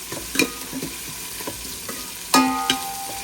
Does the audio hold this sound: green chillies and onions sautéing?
yes